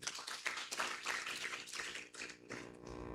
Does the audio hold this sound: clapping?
yes